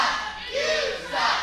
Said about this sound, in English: The crowd letting Shean have it.